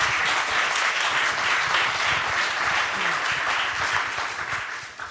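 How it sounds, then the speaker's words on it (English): Dense, even applause from a conference audience after a talk on AI-powered translations in Silverstripe, filling the whole stretch at steady volume before tapering off slightly at the end. "Big round of applause."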